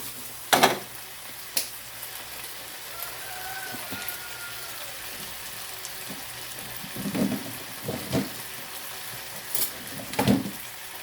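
Squid and vegetables sautéing in a pan, with a soft steady sizzle and a few sharp scrapes and knocks as the mixture is stirred, close and fairly quiet.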